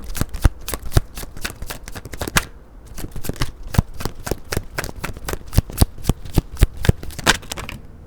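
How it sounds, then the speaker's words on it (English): A tarot card deck is shuffled and cut, giving dense rapid riffling bursts with sharp card slaps, close and fairly loud, running steadily with a brief pause midway and no talking. "let me cut this deck"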